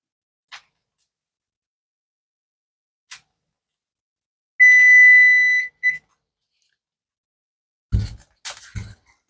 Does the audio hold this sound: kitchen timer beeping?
yes